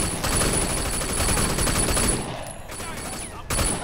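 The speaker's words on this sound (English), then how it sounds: "Switch to the machine gun." Sustained automatic machine gun fire in the video game Sleeping Dogs, loud and continuous for most of the moment before a brief pause and another burst.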